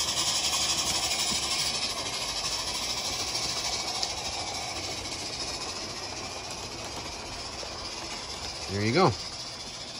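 A live steam model train runs outdoors at night, giving a steady soft hiss and rumble throughout, with a brief rising whistle-like chirp near the end. A voice speaks briefly.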